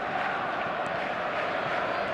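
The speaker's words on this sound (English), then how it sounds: "the crowd level has gone up a notch or 10" A stadium crowd in the eFootball video game, a steady, dense roar of many voices at a raised level that holds constant throughout, with a commentator's voice faintly mixed in.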